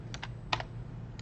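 Brief bursts of keystrokes on a computer keyboard while entering router commands in a Cisco networking class, a few separate clicks over steady low hum, no talking.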